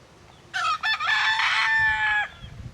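A rooster crows once, loud and close, a long harsh call broken into short bursts, with faint background noise before and after.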